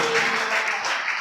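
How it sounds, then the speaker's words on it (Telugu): Congregation at a Saturday half-night worship service claps loudly, a dense continuous burst of applause filling the space from start to finish. "చప్పట్లు కొట్టండి గట్టిగా"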